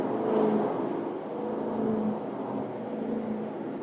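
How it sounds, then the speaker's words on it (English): A stock BMW M3 Competition engine hums steadily from inside the car while driving, a low, even drone with a small swell early on and no talking. "car sounds horrendous, dog."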